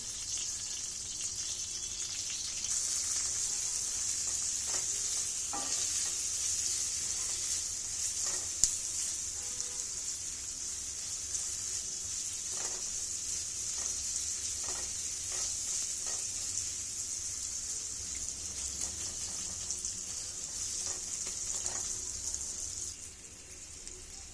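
Onion and green chili sizzling in a hot pan with oil, a steady bright hiss throughout with a few soft stirring clicks, no talk.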